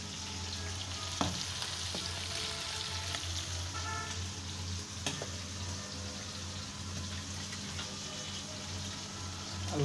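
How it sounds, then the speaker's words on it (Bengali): Pangasius fish fries steadily in a pan with a continuous, even sizzle and occasional soft knocks of a utensil, close and moderately loud. "মাছ ভাজি করা হচ্ছে"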